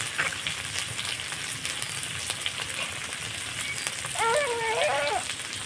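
Green chillies and a spoonful of turmeric sizzle in hot oil in a pan while cooking a Bengali muri ghonto, a steady close frying hiss with some crackle, and no one talking.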